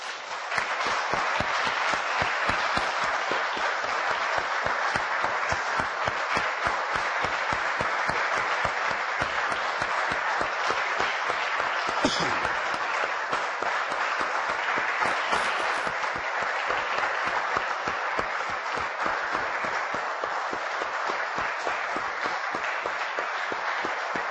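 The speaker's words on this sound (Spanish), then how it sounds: "Damos un aplauso, hermanos, al Señor." A church congregation applauds continuously for a long stretch, dense clapping that holds steady throughout without voices.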